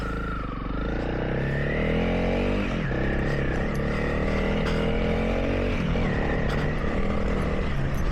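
A Honda CRF300L motorcycle on Michelin Tracker tyres rides a light gravel path, its engine droning steadily and loudly up close, the pitch rising and dipping as the throttle shifts, with faint crunching underneath.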